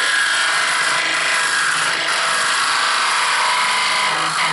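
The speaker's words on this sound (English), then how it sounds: "it's on the high-speed lathe" A gouge cuts a wood bowl spinning on a high-speed lathe, making a steady, loud, continuous scraping hiss that runs unbroken from start to finish with no voices.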